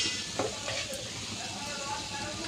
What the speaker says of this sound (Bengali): ভাজিটি করব আমি সরিষার তেল দিয়ে